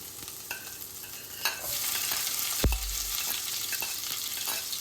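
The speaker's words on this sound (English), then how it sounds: "just a bit of sweet pepper, garlic, and a bit of scallion or spring onion, guys. And we just got a little bit of oil in the pot." Sweet pepper, garlic and scallion fry in a little olive oil in a pot, a steady sizzle broken by scattered stirring clinks and one sharp scrape midway.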